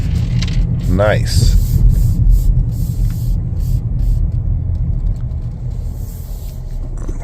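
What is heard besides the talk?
2025 Chevrolet Equinox LT driving on road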